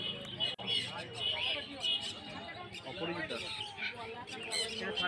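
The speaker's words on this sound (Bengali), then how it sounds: "এখানে বিভিন্ন ধরনের পায়রা রয়েছে" Pigeons of various kinds for sale at the Serampore haat market give scattered chirps and squawks amid a busy, noisy crowd, with people talking nearby throughout.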